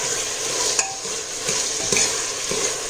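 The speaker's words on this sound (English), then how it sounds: "I'm gonna finely fry this mixture." Wheat dalia dal kichidi mixture frying and being stirred in a pan, a steady close sizzle with a few scraping stir strokes and light clicks, no voices.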